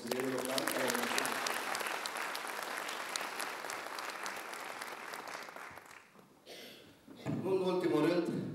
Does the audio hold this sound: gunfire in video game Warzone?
no